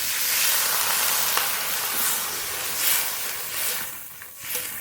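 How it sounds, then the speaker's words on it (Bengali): Steady, loud sizzling and hissing fills the pan as water goes into a frying eel (pakal fish) curry with beans and potatoes, with a few louder surges and no talking. "এবার পরিমাণ মতো জল দিয়ে দেবো।"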